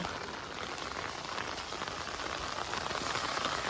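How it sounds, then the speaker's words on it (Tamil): Steady rain pours onto a farm pond, a dense continuous hiss of countless drops striking the water surface, close and even throughout with no voices. "இந்த வருஷம் இந்த தேதி இன்றைக்கி மட்டும்தான் வந்து இவ்வளோ மழை பெய் பெஞ்சிருக்கு"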